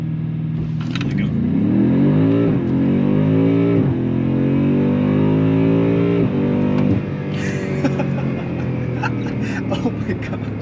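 A 2022 BMW M5 Competition launches hard with traction control off, its engine revving loudly in rising, stepped pulls as it shifts up through the gears, with voices talking over the noise.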